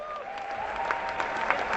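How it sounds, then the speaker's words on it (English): An auditorium audience at a robotics competition bursts into dense, sustained applause, many hands clapping at once with a faint crowd murmur and a lingering tone beneath. "give them a big round of applause"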